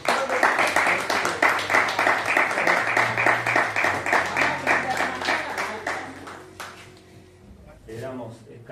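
Applause at the presentation of a digitization centre for 19th-century departmental press, a fairly rhythmic round of clapping with voices mixed in that fades after several seconds into a quieter room and brief talk.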